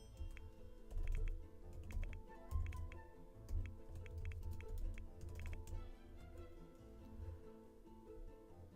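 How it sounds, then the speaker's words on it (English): Close-up clatter of fingers typing on a computer keyboard, fast irregular clicks with occasional heavier key thumps, continuous and unaccompanied by speech. "ignore my horrible typing noises for a moment."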